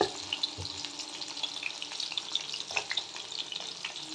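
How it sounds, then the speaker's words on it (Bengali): Cauliflower florets fry in hot oil in a pan, a steady close crackling sizzle with bright spits and pops throughout, no voices. "এবার আমি এইভাবে কপিগুলো ভেজে নেব।"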